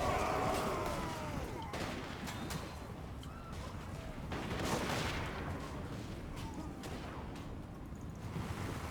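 Point-blank gunfire in the Warhammer multiplayer battle game, a broad rumbling volley of shots and crackling bursts layered over a continuous battle din, with a few sharper cracks standing out.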